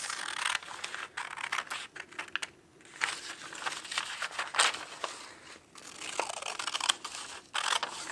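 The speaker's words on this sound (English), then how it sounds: "So I'm going to cut this like this" Scissors snipping a square of paper for a holiday wreath origami, a close run of crisp cuts and crinkles with brief pauses between strokes, no talking.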